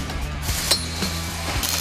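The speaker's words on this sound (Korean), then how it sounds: "여기저기서 망치질 소리가 울린다." Hammer blows ring against steel tank track parts laid out on a workbench during a Korean Army tank overhaul. A few sharp metallic strikes and clinks stand out against a steady workshop hum.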